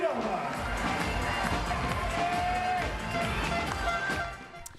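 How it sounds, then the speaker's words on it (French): A basketball arena crowd applauds and cheers after a final in which Monaco retains its title, a steady wash of clapping and voices that holds for several seconds before easing off at the end. "Applaudissements à l'AS Monaco et applaudissements à l'AS Villeurbanne."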